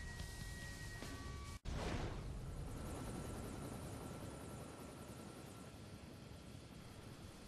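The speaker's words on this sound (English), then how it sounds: "Why are our helicopters going through the tunnel?" In the video game Iron Man 2, a steady, dense mechanical roar of helicopters flying close through a tunnel, continuous throughout with a brief cut and a rushing swell near the start.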